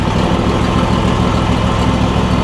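A Briggs and Stratton engine on a John Deere E140 lawn tractor idles steadily after years unused, running smooth and loud up close with an even, continuous rumble.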